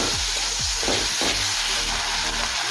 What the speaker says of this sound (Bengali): আবারও কিছুক্ষণ সময় নিয়ে আদা, রসুন, কাঁচা লঙ্কা পেঁয়াজের সাথে একটু ভেজে নেব।